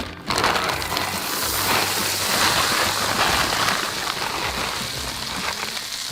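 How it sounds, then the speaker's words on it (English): Frozen shredded hash browns hitting a skillet of hot garlic butter, a loud, steady, close crackling sizzle that bursts in at the start and holds dense and even throughout. "I'm gonna add to that 1 package of these frozen hash browns"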